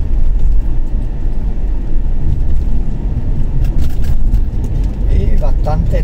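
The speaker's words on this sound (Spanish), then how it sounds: "Y bastante tráfico en la tarde de hoy" Afternoon road traffic on a rural route toward Quebradillas, Puerto Rico: a continuous low rumble of passing cars and engines, fairly close and steady, with someone talking over it.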